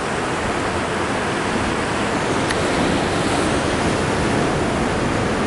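Ocean waves break against the rocky shore at Bald Head Cliff, a loud, unbroken wash of surf and wind noise that roars evenly throughout with no voices.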